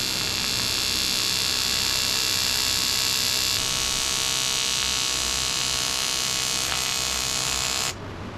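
Steady, loud electric buzz of an arc welder fusing aluminum intercooler piping for a Honda, holding continuously for about eight seconds before cutting out near the end, with no talking.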